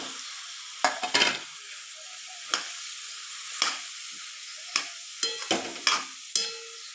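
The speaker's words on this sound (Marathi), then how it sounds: "मस्त असं मिक्स करून घ्यायचं आहे सगळं" Cabbage being stirred into a pan with oil, cumin, mustard seeds, tomato, peas, chilli and turmeric: a steady soft sizzle broken by irregular sharp scrapes and clatters of the spatula, close and alone.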